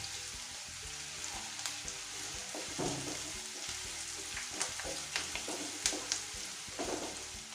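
Chopped onions and curry leaves sauté in a hot pan for an Andhra-style chicken fry, giving a steady close sizzle with occasional stirring scrapes and crackles.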